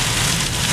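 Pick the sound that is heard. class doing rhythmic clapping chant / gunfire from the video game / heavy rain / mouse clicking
heavy rain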